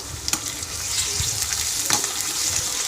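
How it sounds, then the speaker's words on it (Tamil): Ginger garlic paste sautéing with onions in a pan for vegetable kurma, a continuous close sizzle with a few brief scraping stirs. "இப்போ இஞ்சி பூண்டு விழுது சேர்த்து விட்டு நல்லா வதக்கிக்கோங்க"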